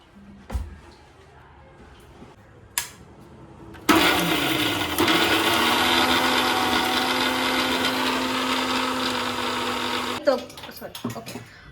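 A kitchen mixer grinder runs with water and leftover paste in the jar, a loud steady whirring motor that starts abruptly, holds for about six seconds and cuts off, with light clatter before and after.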